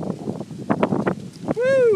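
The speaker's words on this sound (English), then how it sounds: "Woo, it's windy." Gusty outdoor wind buffets the microphone in uneven rumbling bursts, then a person lets out a short vocal exclamation as the gusts continue.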